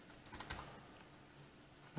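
Typing on an Inateck Bluetooth keyboard: a quick run of soft, close key clicks, uneven in rhythm, with a short pause and a sharper final tap, no voices.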